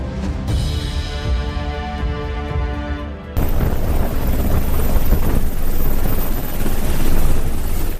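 MH-6 Nighthawk helicopter in flight on a supply run, a loud, steady rotor and engine roar that shifts into a fuller, broader wash partway through and keeps going without a break.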